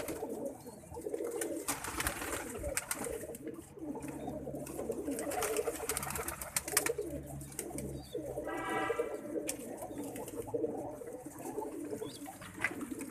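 Pigeons coo softly in a low, repeating murmur, a few birds close by amid quiet background noise and scattered faint chirps.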